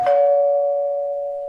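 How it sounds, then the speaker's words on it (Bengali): A doorbell sounds once, a loud, clear electronic tone struck sharply and then ringing out slowly as it fades over about a second and a half. "calling bell বাজাতেই"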